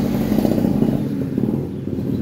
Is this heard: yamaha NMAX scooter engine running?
yes